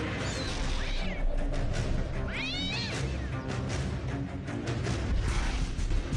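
Domestic cat squaring off against a rat, yowling and caterwauling with sharp rising-and-falling cries over a rough scuffling rumble, loud and close, with a couple of distinct howls standing out.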